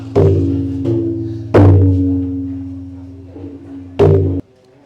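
Thai klong aew drum played at a temple drumming competition at Wat Ban Mon in San Klang, San Kamphaeng, Chiang Mai: a few heavy booming strikes, each ringing out with a long resonant tone, loud and close, with no talk.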